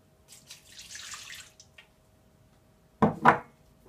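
Milk pouring into a bowl for doughnut dough, a soft splashing stream lasting about a second, followed after a pause by two close, hollow knocks nearby.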